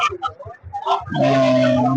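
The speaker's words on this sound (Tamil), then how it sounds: "எல்லா கோழியுமே நல்லா பண்ண கோழி எல்லா கோழிகளுமே கிடைக்கும்" Chickens at the Saturday poultry and goat market in Rettiyapatti: after a moment of chatter and short clucks, one bird lets out a loud, drawn-out call close by.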